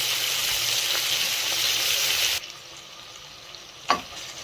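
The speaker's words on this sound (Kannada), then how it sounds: "ನಾನು ಈರುಳ್ಳಿ ಒಂದು ಕಪ್ಪು ಇನ್ನೊಂದು ಸ್ವಲ್ಪ ಫ್ರೈ ಆಗಿದೆ ನಾನು ಹುದ್ದಿದ್ದು ಅಕ್ಕಿ ಇಟ್ಕೊಂಡಿದ್ದೀನಿ ಅದನ್ನು ಹಾಕಿರೋದು" Onions frying for a soya chunk and chickpea pulao sizzle loudly and steadily, then the sound drops sharply as soaked rice goes into the pan, followed by a brief stirring scrape.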